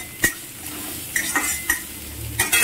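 Onion and garlic softening with a pinch of salt in a pan on low heat, stirred with a utensil in a few sharp scraping taps over a faint steady sizzle.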